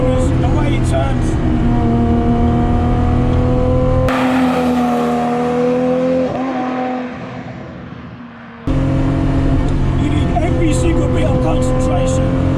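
RB26-swapped Datsun 240z making 645 whp, its engine loud and close as it revs and pulls while driving, with a sudden lift-off and quieter coast in the middle before power comes back on.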